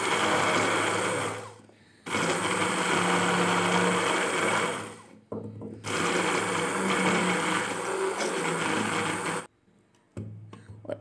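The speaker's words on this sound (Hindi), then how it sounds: "मैं इसे हैंड ब्लेंडर से कर रही हूँ" A hand blender whirs loudly in sustained bursts grinding soaked red chillies, stopping twice briefly before starting again, with a steady motor drone and no talking.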